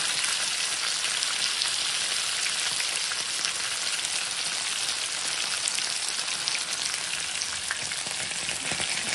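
Fish frying in a pan, a loud dense crackling sizzle like hard rain, steady and unbroken from start to finish with no talk.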